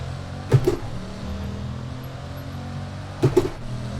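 A car pulls away in Forza Horizon 4, driven with a Logitech G920 racing wheel: a low, steady engine drone with two brief mechanical clunks, one early and one near the end.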